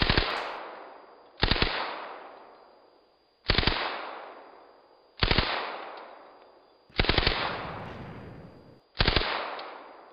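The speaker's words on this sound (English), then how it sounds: "This is a working Tommy gun" A working Tommy gun built in the video game Minecraft fires in six separate loud bursts of rapid automatic fire, each ringing off with a long fading echo before the next burst.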